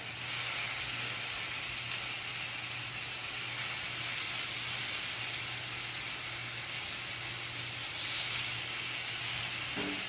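Turkey bacon frying in a cast iron pan, giving a steady, even sizzle and hiss that holds at a constant level throughout, with no talking.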